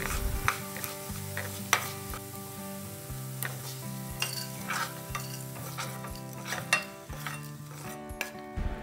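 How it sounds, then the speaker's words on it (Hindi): Coriander seeds dry-roast in a pan with a soft, steady sizzle and gentle scraping and stirring of the seeds against the metal, close by, with light clinks and no talking. "और धनिया डालकर हल्का सा ब्राउन होने तक रोस्ट कर लेंगे।"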